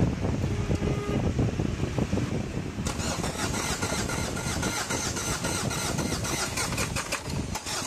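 A Ford Everest diesel engine, fuel injector nuts just tightened, cranks and catches, then runs roughly at a loud, close idle with dense rattling clatter throughout.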